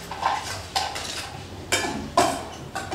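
Cashews and coconut fry in a pan while a utensil scrapes and clinks against the metal in several sharp strokes over a soft background sizzle, with nobody talking.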